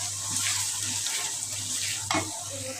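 Garlic fried in oil in a pan, with a steady hiss of frying and a few stirring scrapes, close and fairly loud, with no talking.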